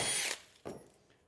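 A power drill bores into very hard metal during a camper van build, with a loud whining burst that cuts off, then a shorter, fainter burst that fades out.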